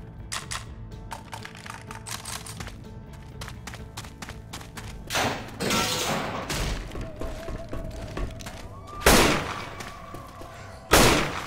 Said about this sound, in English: Hell yeah, grenade launcher.